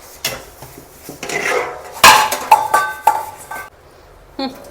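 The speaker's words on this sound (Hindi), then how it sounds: "कुछ भी करने से पहले मैं सबसे पहले अपने बर्तन ही धो लेती हूँ।" Dishes clatter and scrape in a sink, metal pots and utensils clinking and knocking close by in irregular bursts, with a sharp clang midway.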